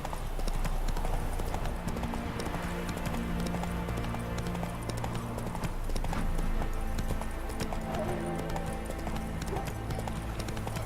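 Roach the horse's hooves clip-clop steadily at a trot in The Witcher 3, loud and rhythmic over a continuous music score, with an occasional whinny and no speech.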